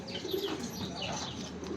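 Pigeons coo softly outdoors in France, with low murmuring calls and faint chirps spread over a steady ambient background.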